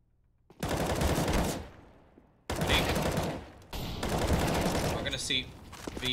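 Pistol fire in Counter-Strike on the Mirage map comes as three dense bursts of rapid, loud gunfire separated by brief pauses, with a match commentator's voice underneath.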